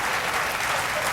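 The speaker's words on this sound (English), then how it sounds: "You're applauding my stupidity." A television studio audience at a late-night talk show claps in a dense, steady burst of applause that fills the whole moment.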